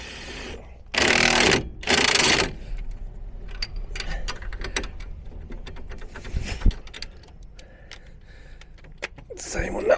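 Two short, loud bursts from a power tool driving in 17 mm brake caliper bolts on a Peugeot 107, about a second apart, followed by quieter clinks and workshop clatter.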